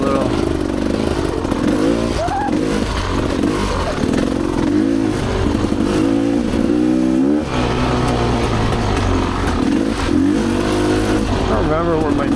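A Rieju Ranger dirt motorcycle rides a single-track trail at Tin Cup Springs. Its loud, close engine drones throughout, with revs repeatedly rising and falling under part throttle and the occasional rattle.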